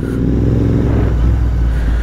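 A Royal Enfield Interceptor 650 twin-cylinder motorcycle engine revs close by, a loud, deep throbbing exhaust note that rises and holds, with no speech over it.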